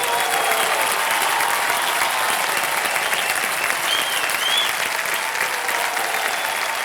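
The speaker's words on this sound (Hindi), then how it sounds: "तालियां बज जाएं इनके लिए एक बार फिर से।" Studio audience at a TV quiz show applauding a contestant who has won 50 lakh rupees, a loud, continuous burst of clapping with faint crowd murmur underneath.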